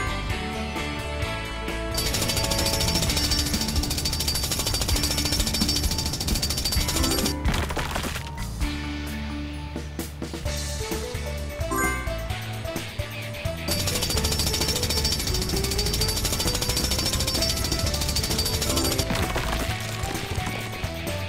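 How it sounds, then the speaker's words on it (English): Rubble's drill in a Paw Patrol Mighty Pups video game hammers loudly and continuously at a rock, a rapid mechanical rattle that cuts out briefly midway and then resumes, layered over game music with no talk. "Help Rubble use his drill to clear the way."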